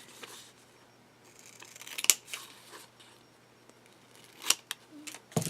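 Scissors snip through packing tape over pressed flowers, giving a few sharp, close cuts spaced across a quiet room, with a louder snip near the middle and a cluster of cuts at the end.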